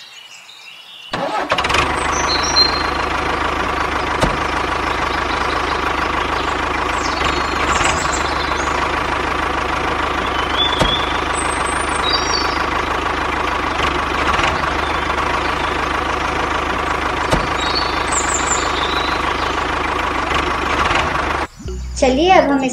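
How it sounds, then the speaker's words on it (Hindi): A remote-controlled toy tractor runs with a steady, continuous electric motor whine and drone that holds nearly unchanged for about twenty seconds, close and fairly loud, with small clicks and squeaks over it and no talking. "चलिए दोस्तों ये ट्रैक्टर इस रिमोट से ऑपरेट होगा।"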